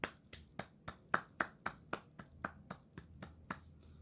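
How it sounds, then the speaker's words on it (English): A single person claps alone at a steady, even pace, about fifteen sharp claps that sound quiet and close, with no talking. "I'm going to give you guys a round of applause right now."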